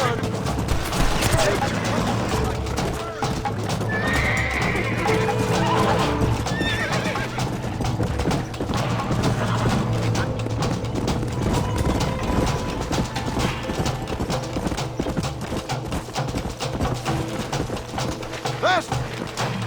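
Horses in the Red Dead Redemption video game, loud galloping hoofbeat clip-clop with whinnies, layered with gunfire volleys and game effects over a continuous dense soundtrack, with character voices speaking throughout.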